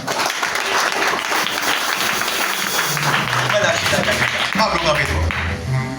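A congregation at a Sunday diaconate ordination service breaks into steady, dense applause, with voices and sounds mixed in beneath the clapping throughout.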